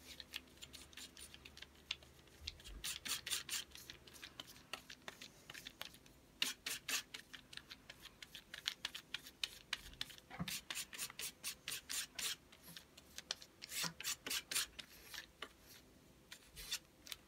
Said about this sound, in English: I'm mixing my thoroughly with my palette knife